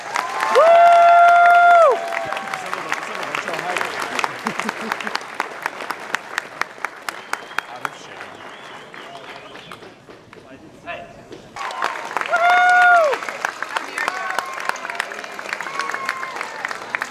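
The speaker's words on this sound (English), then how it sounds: "Another round of applause for our amazing community guest." A convention crowd at a pony fan event applauds a community guest, with dense clapping and bursts of cheering and whistles that swell, dip midway, then surge again, and talk running through parts of it.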